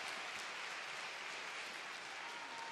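Dense, even applause from a large arena crowd at a figure skating championship in Tallinn, steady clapping for ice dancers with no pauses.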